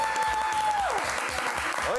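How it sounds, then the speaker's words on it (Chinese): A studio audience gives a short burst of applause, steady clapping over a rhythmic backing with a sliding tone. "给他们掌声"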